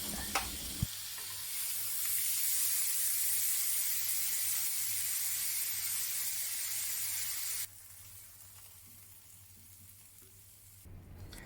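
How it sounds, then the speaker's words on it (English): Lemongrass chicken pan-fried skin side down in a grill pan sizzles in a steady, close hiss that drops suddenly to a softer, quieter fry partway through. "Pan fry skin side down until you get the grill mark."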